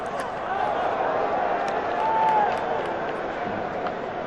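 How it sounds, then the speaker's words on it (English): Steady, dense roar of a large cricket stadium crowd cheering at a Pakistan Super League match, with a commentator talking over the continuous din. "The fans, very good crowd, great atmosphere."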